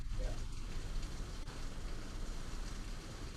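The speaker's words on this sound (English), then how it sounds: "Wow, it is raining really hard here." Heavy rain falls in a steady, dense hiss that stays constant throughout, moderately loud as an even background roar.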